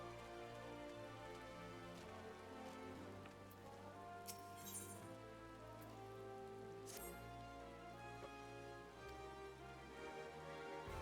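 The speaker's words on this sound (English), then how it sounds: "Oh, it's raining." Rain falling in Final Fantasy XIV, a soft continuous patter of drops layered over sustained game music with occasional bright chimes, steady and even throughout.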